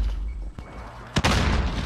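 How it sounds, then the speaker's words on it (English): Grenade explosions in the video game Warzone: two sharp booms, the second louder and followed by a rumbling crash, over a constant low game background. "They're throwing grenades at you?"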